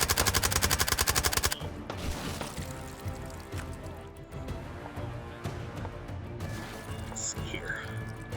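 Gunfire in the VR shooter H3VR: a rapid burst of automatic shots for the first second and a half, then scattered shots and combat noise continuing under a voice.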